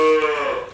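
A dairy milk cow lets out a single close, loud moo that starts strong and tapers off over under a second, heard alone without talk.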